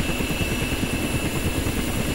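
A Ka-50 helicopter's engine starts in the DCS flight simulator, giving a loud, steady turbine roar over a low, pulsing rumble. The noise is continuous throughout, with no talking.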